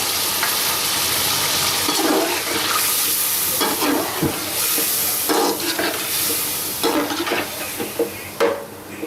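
Whisked yogurt stirred into beef frying in a pot, giving loud wet sizzling and bubbling with repeated scraping strokes of the spoon throughout.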